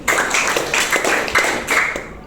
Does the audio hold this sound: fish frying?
no